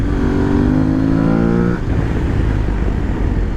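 An Aprilia Tuareg 660 motorcycle accelerating in second gear, its engine note rising steadily for under two seconds before a shift or roll-off into a lower, rougher drone, loud and close with wind noise.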